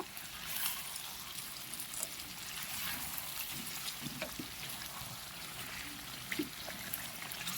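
Water splashes into beef bhuna made with chuijhal and garlic as it simmers on low heat, a steady soft trickle and pour over a constant background hiss with a few faint clinks.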